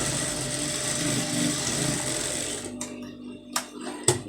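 A sewing machine runs steadily, stitching a folded lace border, with a continuous close mechanical whir for about two and a half seconds before it stops, followed by a couple of sharp clicks.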